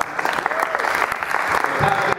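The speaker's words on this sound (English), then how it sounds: "we'll give a round of applause to Pat" Applause from an audience greeting a presenter at a cricket awards show, a dense steady patter of many hands clapping at moderate volume for about two seconds, with faint voices mixed in.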